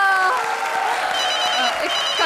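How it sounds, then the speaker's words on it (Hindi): Studio audience applause on a comedy stage show, steady and fairly loud throughout, mixed with sustained music tones and some voices over it. "तालियां"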